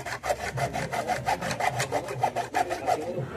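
A hand saw works back and forth through a metal grate in a steady, rapid rhythm of rasping strokes, close and fairly loud with no talk over it.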